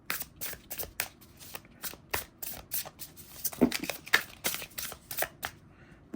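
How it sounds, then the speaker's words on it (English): Tarot cards shuffled by hand in a steady run of crisp, papery riffles and flicks, close and fairly quiet, with no talking. "let me just shuffle this up really good."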